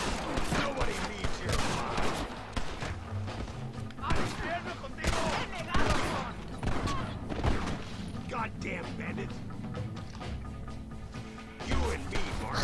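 Gunfire from a played Robocop clip, bursts of shots and crashing impacts repeating through the segment, mixed with music and effects at moderate level.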